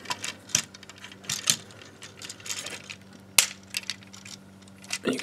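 Plastic parts of a third-party Transformers figure, First Aid, clicking and snapping as the pieces collapse and fold, with several sharp close ticks and small rattles spaced irregularly over a faint background hum.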